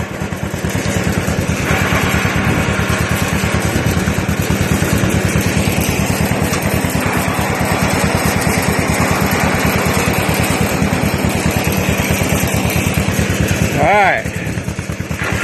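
A John Deere M tractor engine runs steadily while driving, a loud, even mid-pitched chugging that holds throughout, with someone talking briefly over it near the end.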